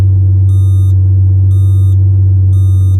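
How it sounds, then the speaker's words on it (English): Inside the cabin of a Lamborghini Murcielago LP640 in reverse gear, a high electronic warning beep sounds three times at a steady one-second rhythm over a loud, constant low engine drone. "when you put it in reverse, it beeps at you like a box truck's backing up"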